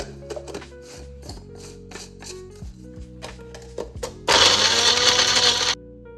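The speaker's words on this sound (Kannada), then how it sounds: "ಈಗ ಮೊದಲನೇದಾಗಿ ಬೀಟ್ರೂಟ್ನ ಮಿಕ್ಸಿ ಮಾಡ್ಕೊಳ್ತಾ ಇದ್ದೀನಿ" A mixer grinder blends beetroot in a loud, steady whir that lasts about a second and a half, then cuts off abruptly. It comes after a run of scattered clinks and handling knocks from the jar and lid.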